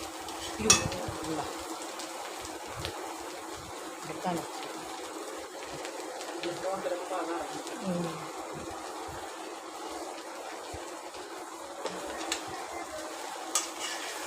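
Onions sautéing for Malabar beef biryani, a soft steady sizzle with occasional spoon scrapes and clinks against the pan, heard under ongoing talk.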